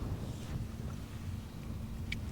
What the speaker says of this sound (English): It's a windy place.